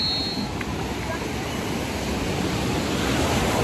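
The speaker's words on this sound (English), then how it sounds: "Oh, these waves," Ocean waves at Virginia Beach roll in as a steady, loud wash of surf noise with heavy wind on the microphone, continuous throughout without a break.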